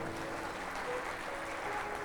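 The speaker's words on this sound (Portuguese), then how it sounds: "Aplauda o Senhor bem forte" Steady applause from a church congregation at a Sunday service, a continuous wash of clapping at moderate level with no distinct individual claps standing out.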